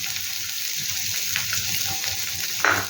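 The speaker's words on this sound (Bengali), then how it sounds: "পেঁয়াজ কুচিটা দিয়ে এবার এটাকে একটু ভাজা করবো" Chopped ginger and onion sizzle steadily in a pan, a close, even frying hiss broken by faint stirring scrapes and a short clink near the end, with no talking.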